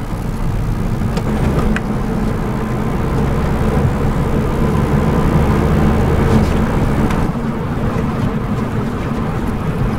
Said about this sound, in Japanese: 青になりましたので発進します